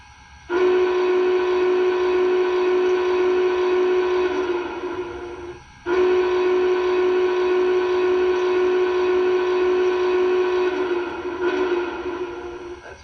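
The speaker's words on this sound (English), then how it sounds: "Love that little whistle there they have on this." A small whistle on an MTH model Union Pacific Big Boy steam locomotive blows two long, steady, reedy blasts separated by a brief pause, loud and close over a low running hum.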